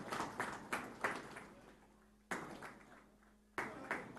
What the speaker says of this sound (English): I guess this applause needs to be more louder.